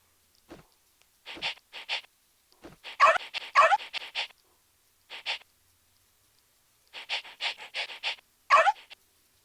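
A puppy in the Toca Boca video game pants in quick rhythmic bursts, with a few short yips and barks between the breaths, and no voices.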